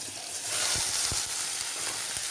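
Chopped okra and carrots fry in hot oil with a steady, fairly loud hiss, broken by a few soft thumps and clatters as the pan is stirred.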